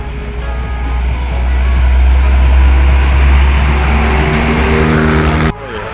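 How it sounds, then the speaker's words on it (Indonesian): A truck passes close by on a road, its loud engine drone swelling to a peak and holding before cutting off abruptly near the end. "Truk juga lewat sini nih, mau mana?"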